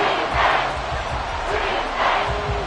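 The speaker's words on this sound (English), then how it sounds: "This crowd turning up the decibel level." Stadium crowd in the video game Madden NFL 24 roars loudly and continuously, swelling in a few rumbling surges across a short stretch of game noise.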